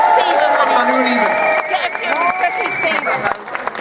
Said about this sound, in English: we need to give ourselves a big round of applause on this cold morning